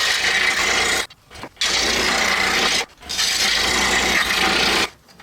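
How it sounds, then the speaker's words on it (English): An oscillating drum sander grinds scroll-sawn wood pieces for a plumb bob, giving a loud, steady abrasive rasp in three long passes broken by short pauses. "we're going to use an oscillating drum sander to sand up to the line"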